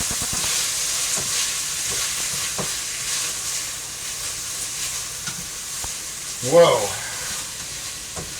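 Broccoli stir-frying in a hot pan for black bean sauce, giving a steady close sizzle and hiss throughout with a brief louder burst as more goes in, and a short exclamation from a voice.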